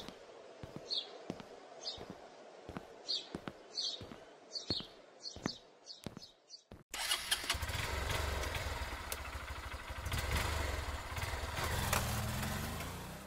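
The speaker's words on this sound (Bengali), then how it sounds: "বাইক আস্তে চালাবি" A motorbike engine starts up and runs, then rides off, its low rumble swelling and then fading. Before it, quiet outdoor ambience carries regular sharp ticks and faint bird chirps.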